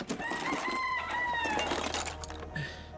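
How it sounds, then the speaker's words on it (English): A chicken in the video game Arc Raiders, a series of drawn-out clucking, crowing calls, clear and fairly close over a low background hum. "We have a chicken."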